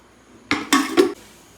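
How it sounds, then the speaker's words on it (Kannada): A metal pressure cooker handled in a home kitchen gives three sharp, close clanks in quick succession, then falls quiet. "ಕುಕ್ಕರ್ ತಗೋಬೇಕು."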